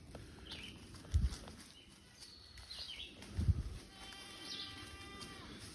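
Goats in a brush-filled house pasture, including a nursing kid, bleat a few times at a moderate distance, with soft low thumps and rustling between the calls.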